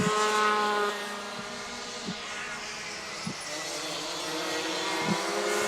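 Rotax Max 125cc racing karts howl past on a race track in a steady, fairly distant engine drone, with faint thumps breaking through the continuous buzz and no speech.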